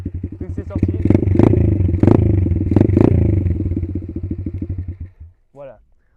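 Small 88 cc pit bike engine running with the exhaust baffle removed, a loud, close, rapid popping idle that swells into revs with crackle and clatter, then cuts off abruptly, followed by a brief rising whine.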